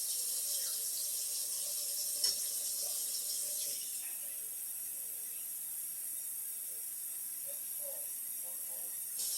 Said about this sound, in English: I let the water run for about a second or so